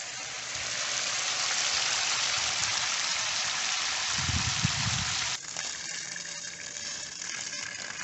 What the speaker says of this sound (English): So now I'm going to go turn on the power to the pump and perform the backwash.